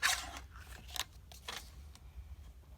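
A tag is snipped with scissors, giving a few quiet, sharp cuts and rustles spaced apart, with no voices.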